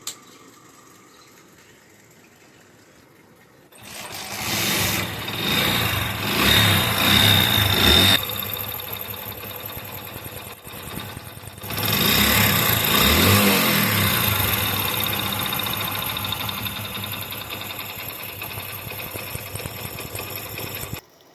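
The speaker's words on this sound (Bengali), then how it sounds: "বাইকটির ইঞ্জিন থেকে কেমন খ্যাটমেটি শব্দ টিকটিক টিকটিক করে শব্দ আসে" A motorcycle engine runs with a rapid, steady ticking and knocking clatter, rising louder twice as the throttle is opened, heard up close with no talking.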